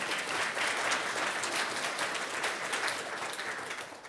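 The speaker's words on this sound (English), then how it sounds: "Can we get a round of applause for President Napolitano?" A lecture audience at the Goldman School of Public Policy applauds President Napolitano, sustained dense clapping at an even level for several seconds, easing slightly toward the end.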